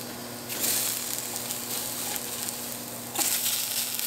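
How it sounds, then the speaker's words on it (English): Tofu slabs sear in a hot pan with a constant low sizzle, broken by two louder bursts of crackling hiss, likely as pieces are moved, heard up close. "we've got a nice little sear on our tofu"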